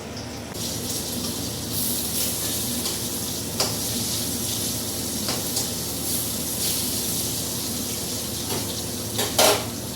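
Onion posto cooking in a home kitchen: a steady close sizzle of frying, with occasional clinks and scrapes of a spoon against the pan and a few sharper metallic knocks near the end.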